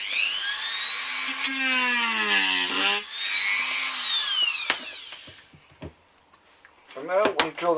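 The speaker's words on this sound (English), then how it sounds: "So now we've drilled up the little drill bit by here." A small high-pitched drill with a small bit whines close up while removing a Boba Fett helmet visor, its pitch rising and falling in bursts, then stops; brief clicks and a short restart follow.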